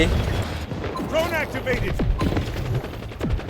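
Artillery fire in the shooter game Delta Force, rumbling low booms and bursts of gunfire rolling under excited voices talking over one another, with whistling tones sweeping through the middle.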